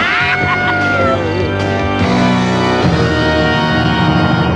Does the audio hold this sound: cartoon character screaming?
yes